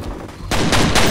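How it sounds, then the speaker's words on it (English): Pistol gunfire in the multiplayer shooter Fear Combat on the Refinery deathmatch map: quiet game ambience, then from mid-clip a loud, dense run of sharp shots in quick succession. "I like how you keep shooting with pistols even after you're dead."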